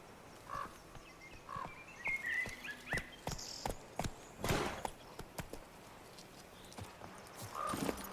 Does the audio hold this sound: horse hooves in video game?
yes